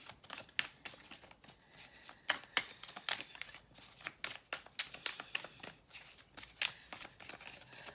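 A tarot card deck is shuffled close up in a quiet room, giving a steady run of soft, rapid riffling and slapping card sounds with no talking.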